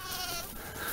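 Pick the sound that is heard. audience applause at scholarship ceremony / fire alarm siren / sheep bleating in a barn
sheep bleating in a barn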